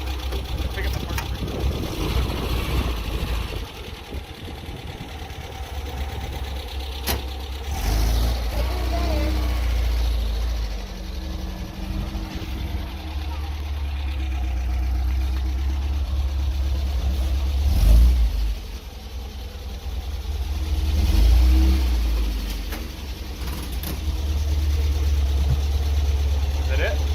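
A 1974.5 car engine idles and is revved near the microphone, a steady low rumble that swells in a few bursts, with people talking over it.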